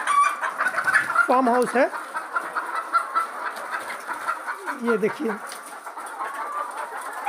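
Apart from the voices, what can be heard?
chickens clucking in a poultry egg farm house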